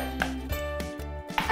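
Four ice cubes clink and knock into a container for a coffee and vanilla ice cream cocktail, several quick close clinks over a steady background hum.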